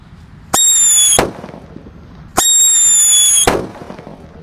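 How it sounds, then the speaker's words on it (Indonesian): A Black Buster firecracker goes off twice, each a loud sharp blast with a brief shrieking whistle, separated by about two seconds of quiet. "Mulai dari mercon Black Buster segini, guys."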